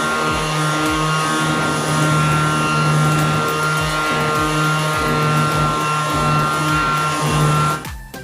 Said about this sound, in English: we'll just grab our sander, give it a quick sand